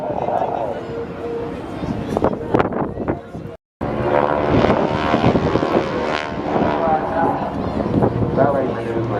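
A propeller aircraft flies at the Blackpool Air Show, its engine drone loud and continuous with a brief cut, while a commentator talks over the top throughout.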